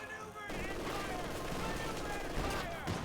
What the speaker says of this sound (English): This was the MG42.